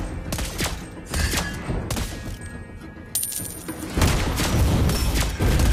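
Gunfire in a ranked shooter video game match: dense, loud bursts of rapid shots and booming impacts crowd the whole stretch, building into heavier, continuous fire toward the end.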